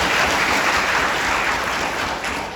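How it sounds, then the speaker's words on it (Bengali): A crowd at a public gathering claps together, a dense, steady wash of applause that carries on for a couple of seconds before easing slightly at the end. "আমি করতালির মাধ্যমে তাদেরকে আবার ধন্যবাদ জানাই"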